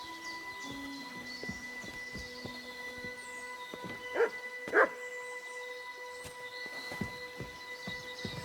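In Kingdom Come: Deliverance 2, a dog gives two short, moderately loud barks over a steady game ambience with faint music and birdsong.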